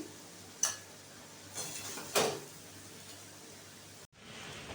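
A spoon serves banana flower ghonto cooked with prawns onto a plate, giving a few sharp clinks and scrapes of metal on the dish over a steady low hum, with no talking.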